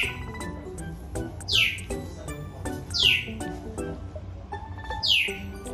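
Pet parrots in a home kitchen let out repeated sharp squawks and chirps, three loud rising calls spaced about a second and a half apart over softer chatter and background noise.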